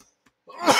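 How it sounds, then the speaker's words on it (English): A single harsh cough close to the microphone, rising abruptly after a brief near-silence. "got a little bit of a cough right now"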